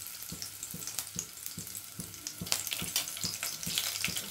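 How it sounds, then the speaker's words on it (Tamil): Two pieces of cinnamon bark spit and crackle in hot oil for a bun parotta salna, a steady close sizzle broken by soft repeated taps of a spoon against the pan. "இப்போ அதை வந்து பொரியட்டும்"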